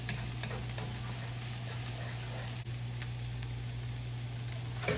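Onions for fried rice sautéing in a hot pan, a steady close sizzle running the whole time with occasional light scrapes and taps as they are stirred and tossed, under a constant low hum.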